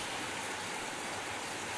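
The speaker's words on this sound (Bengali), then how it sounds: "আর তারপর নামলো ঝমঝমিয়ে বৃষ্টি" Heavy rain pouring down steadily as a sound effect in a spooky story, a dense, constant broadband wash of falling water with no voices over it.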